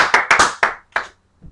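Sparse, deliberate golf clap: a handful of sharp close hand claps in slow uneven rhythm, the last one softer, with no talking over them.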